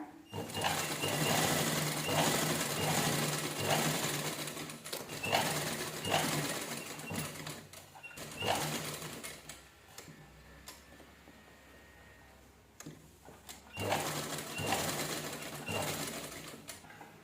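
A sewing machine stitches a princess-cut blouse in long, fast, steady runs, pausing briefly then stopping for a few quiet seconds before starting again, no voices.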